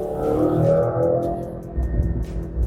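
Mercedes-AMG C63 SE engine revving: a loud, close engine note swelling and easing across under three seconds, with a deeper throaty surge toward the end.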